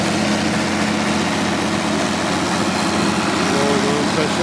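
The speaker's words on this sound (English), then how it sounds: "engine, 6-cylinder." A Perkins six-cylinder diesel engine on a bog excavator idles steadily nearby, a continuous low rumble with broadband mechanical noise throughout.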